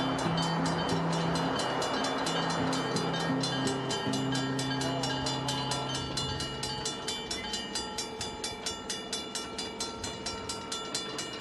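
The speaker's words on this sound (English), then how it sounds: "with a blast of the whistle and the clanging of the crossing bells, the train rolls out of the station" A wine train's horn sounds over rumbling rails, then a steady rhythmic clacking of wheels builds as the train pulls out of the station, with crossing bells ringing throughout.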